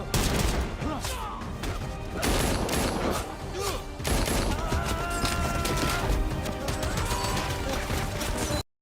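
Heavy-weapons gunfire rattles through a movie action scene, with dense bursts of shots and crashes packed over a busy soundtrack that runs without pause before cutting off abruptly.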